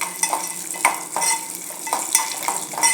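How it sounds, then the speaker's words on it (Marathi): Roasted gram dal and peanuts are tossed briefly in a pan on the stove, giving dry scraping and rattling stirs with light sizzle, loud and close without talk. "आता आपल्याला हे खूप भाजायचं नाही आहे फक्त एखाद मिनिट आपल्याला असं परतून घ्यायचं"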